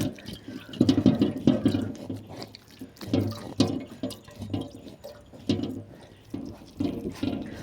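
Water drips and trickles out of pressed, wet arrowroot pulp during homemade arrowroot powder making, coming in irregular close splashing bursts as the pulp is squeezed.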